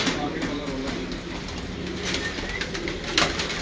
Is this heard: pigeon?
yes